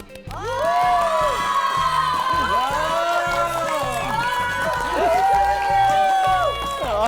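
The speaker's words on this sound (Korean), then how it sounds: "여러분 큰 박수로 교수님 모셔보도록 하겠습니다." A lecture audience at a New Year special talk show cheers, whoops and applauds to welcome a food science professor, a loud, dense crowd roar that holds steady for several seconds, with excited voices rising through it.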